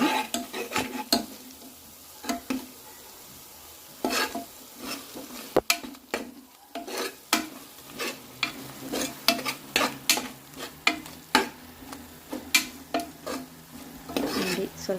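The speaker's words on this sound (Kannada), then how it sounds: "ಧನಿಯಾ ಗರಂ ಮಸಾಲ ಹಾಕಬೇಕು ಆಯಿಲಲ್ಲೇ ಫ್ರೈ ಆಗಬೇಕಿದ್ದು" Coriander and garam masala fry in oil for egg biryani, with a low sizzle under frequent sharp scrapes and clinks of a spoon stirring against the pan, close and irregular.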